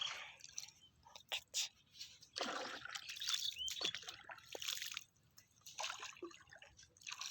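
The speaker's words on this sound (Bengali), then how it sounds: "নৌকা চলছে পানির উপরে" Oars dip and pull as a rowing boat moves through water in the Sundarbans: quiet, irregular splashes and trickles come in short bursts with gaps between them, close by.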